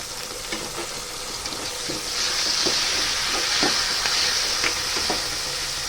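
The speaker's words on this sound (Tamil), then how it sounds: "இப்போ நம்ம கருவேப்பிலை சேர்த்துக்கிடலாம்" Curry leaves crackle and sizzle in hot oil in a frying pan after onions and salt, a steady dense frying hiss that grows louder partway through, with sharp spattering pops scattered throughout.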